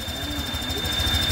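A Honda Vario 125 scooter with a hot engine, its running hum carrying a steady high-pitched whine or squeak, close and fairly loud, unbroken over a short stretch.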